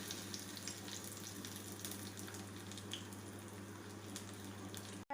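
Chilies crackle in hot tempering oil for a Kerala restaurant-style coconut chutney, a faint steady sizzle with scattered small pops that cuts off abruptly at the end.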